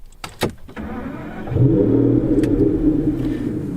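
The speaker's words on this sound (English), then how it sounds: "we are greeted by the wonderful 6-litre V12, which sounds absolutely incredible" An Aston Martin Vanquish's 6-litre V12 cranks and catches after a few sharp clicks, settling into a deep, steady rumble heard from inside the car.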